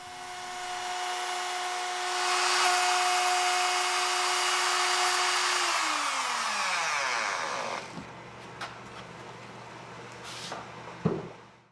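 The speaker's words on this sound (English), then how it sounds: "I'll mark some positions and set up a fence, then make a few passes with an 1/8 inch bit." Router with an 1/8 inch bit cutting slots in wood for a coin bank, a loud high whine that rises as the cut begins and holds steady, then winds down, followed by a few faint knocks.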